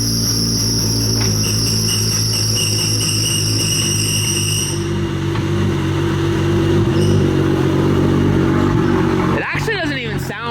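A car engine idling and warming up with a noisy belt, a steady low rumble under a high, thin whine that drops away partway through, ending with a brief clatter nearby.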